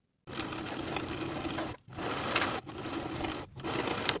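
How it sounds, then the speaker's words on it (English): Sewing machine running in three steady bursts with short pauses, stitching a curved pocket edge for elastic-waist women's pants; close and even, no voices. "Sew around the curved edge with a 3/8 inch seam allowance, leaving the top edge open"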